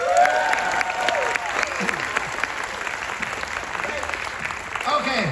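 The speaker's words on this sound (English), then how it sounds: "give a big round of applause for your assistant cruise director and your cruise director" Applause and cheering from an audience at a Lennon and McCartney tribute show on a cruise, steady and dense throughout with crowd voices mixed in.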